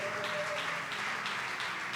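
A church congregation at a morning prayer gathering applauds, a dense, continuous wash of clapping that stays steady and moderately loud throughout with no clear talk over it.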